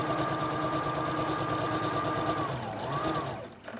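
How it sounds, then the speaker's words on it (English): A sewing machine runs steadily and loudly, its fast mechanical stitching rhythm continuous before slowing and stopping near the end. "she's sewing using a sewing machine with wet glue."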